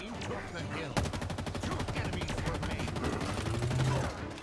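Rapid automatic gunfire from a video game, a dense rattling burst of shots that runs for several seconds, loud and continuous, with a faint voice underneath.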